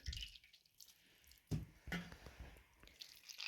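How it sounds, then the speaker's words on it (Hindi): Soaked, washed food for a Kashmiri dish is wrung out by hand, giving quiet squishes and scattered drips of water at close range. "इसने जो पानी एब्जॉर्ब किया है ये हम निचोड़ लेंगे अच्छे से"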